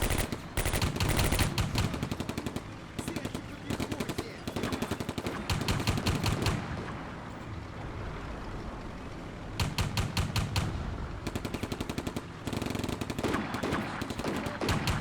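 Rapid bursts of machine-gun and rifle fire in the Combat Mission: Barbarossa to Berlin wargame, loud and sustained in long volleys separated by brief lulls of rumbling battle noise.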